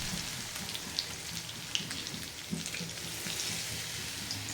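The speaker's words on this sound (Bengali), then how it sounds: "এখন এক এক করে বড়াগুলো দিয়ে কিন্তু আমি মিডিয়াম টু লো আঁচে ভেজে নিব।" Pumpkin leaf fritters fry in hot oil in a pan over medium-low heat, a soft, even crackling hiss with a few light pops and taps, fairly quiet and unaccompanied by speech.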